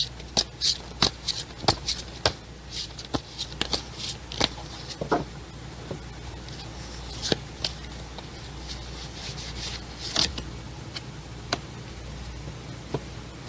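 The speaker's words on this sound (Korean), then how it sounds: "여러분들을 위한 조언 카드를 한 장 뽑아보도록 하겠습니다" A deck of tarot cards is shuffled by hand, giving a close series of crisp riffles, flicks and taps at an irregular rhythm over a low hum.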